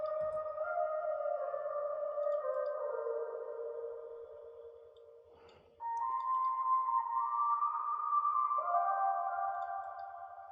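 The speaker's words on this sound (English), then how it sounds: "I added my own vocal chop, which is going to sound like this." Sustained, pitched-up reversed vocal tones glide and shift, washed in reverb, with a brief gap before the smeared, ethereal chop resumes, made in FL Studio.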